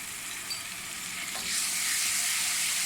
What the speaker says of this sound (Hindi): इसको थोड़ा सा भूनूंगी। लहसुन में से खुशबू आने लगी, भून चुका है।